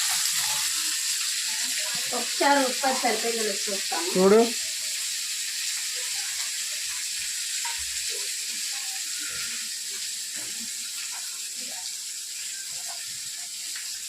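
Fish fries in a pan with a steady, even sizzle and hiss that runs the whole time, close by, with a voice speaking briefly near the start.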